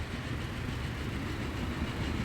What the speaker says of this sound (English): Oh, there goes a log train.